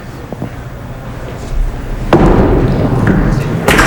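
5-pin bowling ball rolling down a lane and striking pins at a televised semi-final, with a low rumble building to a sharp clatter of pins midway and another crash near the end.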